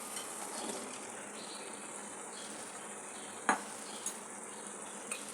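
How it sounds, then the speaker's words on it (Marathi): Cut ivy gourd hits hot masala oil, giving a faint, even sizzle with a couple of brief utensil clicks later, heard close and quiet with no voices. "मसाल्याला चांगलं तेल सुटलं आहे आता याच्यामध्ये मी कापलेली तेंडली टाकून घेते"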